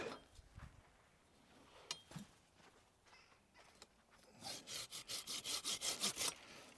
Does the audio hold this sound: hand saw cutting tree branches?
yes